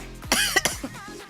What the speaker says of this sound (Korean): 기침만 안 나면 괜찮은데 기침이 진짜 거의 8할을 차지하고 있기 때문에